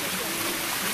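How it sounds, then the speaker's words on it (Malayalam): The wide waterfall at Parikkad in Kuttur North, Malappuram, pours with an unbroken, even rushing hiss that fills the scene at moderate volume. "അത് വിശാലമായ ഒരു വെള്ളച്ചാട്ടമാണ് നമുക്ക് മുന്നിലൂടെ കാണുന്നത്."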